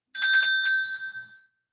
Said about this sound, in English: My handy dandy bell.